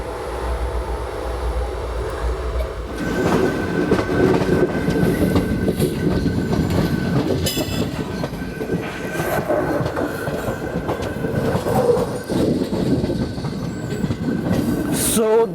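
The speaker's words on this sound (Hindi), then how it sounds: "अभी हमारी ट्रेन रांजनी रेलवे स्टेशन के लूप लाइन पे आ चुकी है" A Rajya Rani Express running from Nanded to Mumbai, heard from inside, rumbles loudly and steadily, with rhythmic clickety-clack of wheels over rail joints, occasional squeals and a sustained tone, with no talk.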